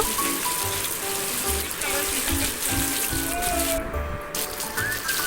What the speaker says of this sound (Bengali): এবার এই তেলে আলুগুলো সব ভেজে নেব